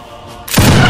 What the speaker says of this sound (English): let's see if this wall can stop cannons